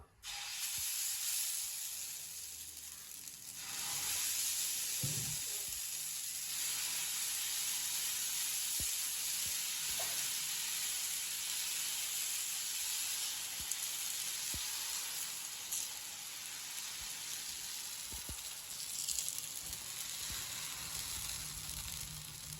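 Dosa batter sizzles on a large oiled hot griddle, a steady close hiss that runs unbroken throughout, with faint occasional clicks and scrapes beneath.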